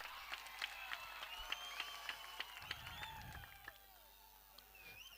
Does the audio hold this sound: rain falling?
no